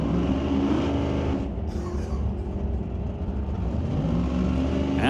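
A Corvette driven by Ashley Thompson makes a drag racing run at an NHRA Canadian SPORTSnationals divisional qualifying event, its engine roaring loud and steady throughout, with a rising pitch as it pulls down the strip.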